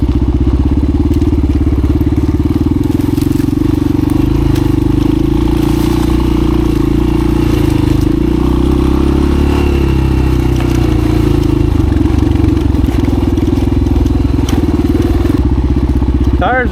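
A vintage 1985 Honda XR350R motorcycle rides along dirt trails, its single-cylinder engine thumping loud and close in a continuous steady drone with brief rattles and scrapes, while someone talks over it.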